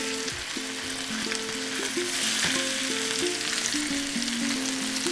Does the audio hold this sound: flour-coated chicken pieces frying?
yes